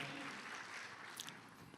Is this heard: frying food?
no